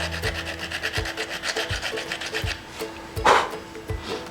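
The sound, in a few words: sanding with a piece of 80-grit sanding belt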